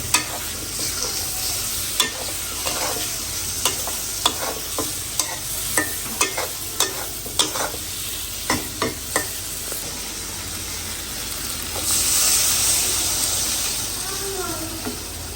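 Shrimp curry cooking in a pan: a steady frying sizzle and hiss runs throughout, with regular spoon clinks and scrapes as it is stirred, close and fairly loud, and a brief voice near the end.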